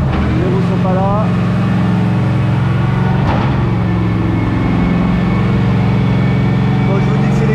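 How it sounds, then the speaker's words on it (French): A Mercedes AMG GT race car engine warms up on stands with its wheels off, a loud, steady, close-up droning rumble that holds throughout with a brief rev blip. "La voiture est en chauffe."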